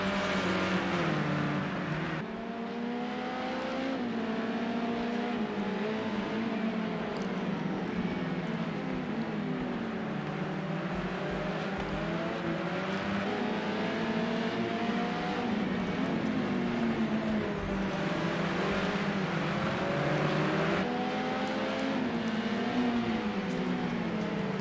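A BMW race car lapping Circuit of the Americas, its engine droning loud and steady with rising and falling pitch through gear changes and corners, continuous throughout.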